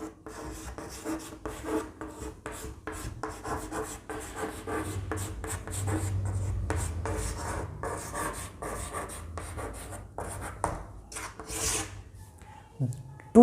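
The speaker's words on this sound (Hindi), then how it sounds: "पर अप्रोक्स डेट मैं लिख देता हूँ।" Chalk or marker scratching out a date on a classroom board during a lesson on India's constitution: short, rapid rubbing strokes in uneven bursts, close by, over a faint background voice.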